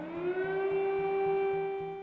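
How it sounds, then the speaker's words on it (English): A steady air raid siren in Kyiv wails on a single sustained tone, loud and unbroken, with a faint rhythmic pulsing underneath. "Air raid sirens blared in Kiev after President Putin's statement was broadc"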